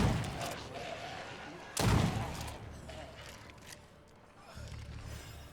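Shotgun blasts from State of Decay 2, with one heavy, close report standing out among a few fainter shots over a quiet background, and a voice speaking faintly at times.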